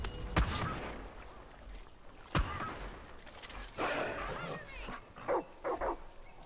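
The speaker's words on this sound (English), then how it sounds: "Cute dog." A dog in Far Cry 5 gives a few scattered sharp barks followed by short whimpering yips, fairly faint against a low outdoor background.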